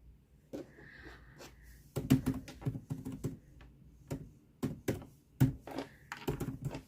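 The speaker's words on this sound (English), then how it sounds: "I'm a slow typer." Slow, irregular typing on a computer keyboard, close and clear, with scattered key taps and short bursts separated by pauses in an otherwise quiet room.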